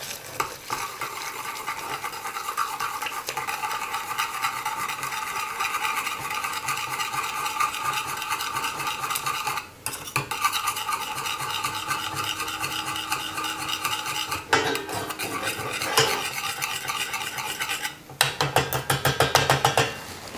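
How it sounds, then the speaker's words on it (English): A teeny tiny whisk stirring a butter mixture for waffles, giving a steady, continuous, close-up scraping and rattling against the bowl that holds throughout with brief pauses and no talking. "So I'm just gonna stir this up a little bit"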